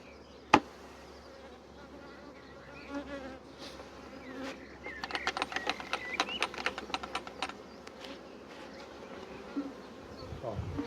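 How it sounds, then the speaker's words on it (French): Honeybees buzz steadily around a small nucleus hive during transfer to a Dadant hive, with a sharp knock near the start and a burst of clicking, tapping sounds in the middle. "toutes les abeilles qui sont encore dans la ruchette."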